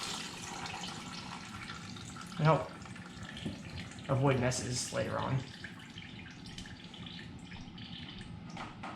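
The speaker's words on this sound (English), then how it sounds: "and watch the extra water dump out." Coolant water drains from a loosened hose on a Suzuki SV650 motorcycle, making soft splashing and trickling bursts that come and go, faint beneath someone talking close by over steady background hiss.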